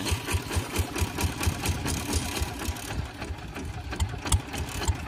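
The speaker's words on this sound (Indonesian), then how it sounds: "maaf ya kalau ada sedikit bising karena ini mesinnya masih hidup" Modified rotary tiller and plough tractor engine running steadily nearby, a loud rapid chugging with regular low thumps and rattling, continuous for the whole stretch without talk.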